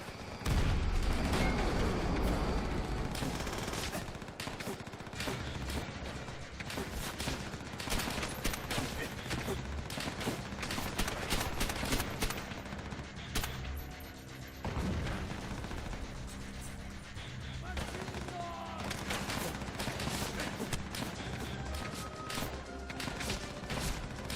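Dense, rapid gunfire fills the scene as zombies are shot in Call of Duty: World at War, with loud bursts and steady volleys continuing without pause under occasional game noise.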